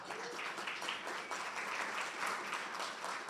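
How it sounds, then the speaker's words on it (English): Steady applause from a seated audience at a quarterly association meeting in a venue, dense clapping sustained throughout at moderate volume with no one speaking over it. "A round of applause, please."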